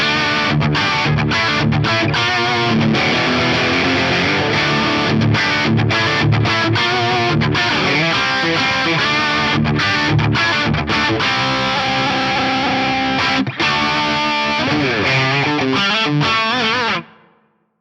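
Electric guitar driven through a Rat distortion pedal into a TV mix cab, playing loud, gritty chords and riffs with short choppy gaps before ringing out and cutting off at the end.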